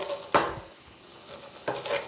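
A gooseberry pickle mixture with green chillies is stirred on a low flame, giving a gentle background sizzle and two distinct scraping strokes of a spoon against the pan.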